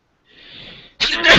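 A soft inhaled build-up followed by one loud, sharp sneeze burst, close and alone.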